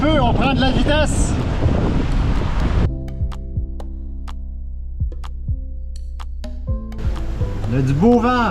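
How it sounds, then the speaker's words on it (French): Strong wind buffets the microphone aboard a sailboat off southern Nova Scotia, roaring for the first few seconds, easing to a quieter stretch, then gusting loudly again at the end. "Le vent augmente un petit peu, on prend de la vitesse."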